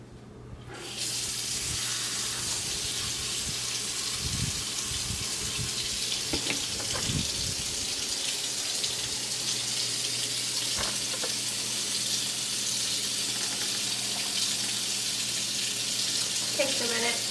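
A tap runs steadily in a small barndominium, a continuous bright hiss of water filling the space, with a few knocks and brief faint voices in the background.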